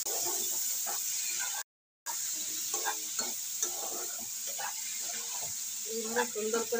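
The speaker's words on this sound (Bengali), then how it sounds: "মশলা দিয়ে আলু পেঁপেটাকে কষিয়ে নেব একদম" Potato and papaya fry with masala in a pan, a steady sizzling hiss with scraping stirring sounds, cut by a brief silent gap, while someone talks over it.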